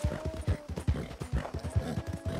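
Horse hooves clip-clop in a steady, quick rhythm in a video game, a close, even run of hoofbeats with a faint tonal hum underneath and no talk.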